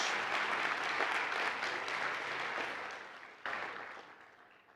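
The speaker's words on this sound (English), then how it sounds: "while we give him a round of applause for having come here to visit us" Audience applause at a 2019 CATS Academy Boston graduation ceremony, honoring a visiting executive director, dense steady clapping that gradually thins and fades, with a brief renewed burst near the end.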